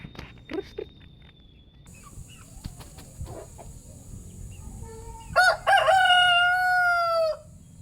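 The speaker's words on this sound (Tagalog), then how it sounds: "nandito po yung pinakawalan ko na barako, lalaki na yan" A young male rooster crows once near the end, a loud, drawn-out call after quieter farmyard clucks, a faint high whine and scattered taps.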